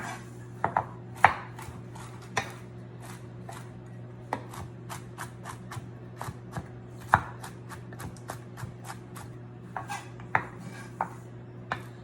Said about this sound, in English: You don't want to chop them up too fine, but you don't want them to be too big either